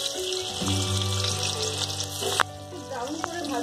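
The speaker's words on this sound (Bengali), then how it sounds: "সাদা তেল দিচ্ছি, এবার আমি আলুটা ভেজে নেবো।" Potatoes fry in white cooking oil for a Bengali banana-leaf biryani, giving a steady close sizzle with faint stirring and a sharp clack partway through; no one speaks.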